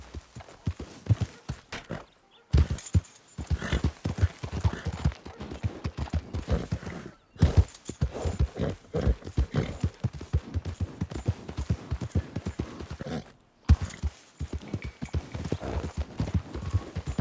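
A horse gallops in Red Dead Redemption 2 with rapid rhythmic hoofbeats that drive on steadily, broken by a few brief gaps, at moderate loudness.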